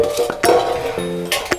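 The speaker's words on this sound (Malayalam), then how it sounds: "അവലൊക്കെ ഇട്ടിട്ട് നന്നായി ഇളക്കണം, അല്ലെങ്കിൽ ഇതിൻ്റെ അടിയിൽ പിടിക്കും." Flattened rice (aval) stirred in a pan, with a few quick scrapes and clinks of a spoon against metal over a faint background hum.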